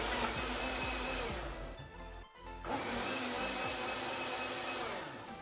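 A blender mixing a protein smoothie whirs as a loud, steady wash of motor and blade noise, briefly dipping once in the middle before resuming at full strength.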